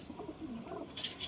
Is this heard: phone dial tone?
no